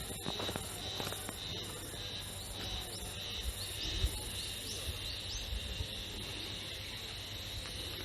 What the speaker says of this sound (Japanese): 春セミやろな、多分。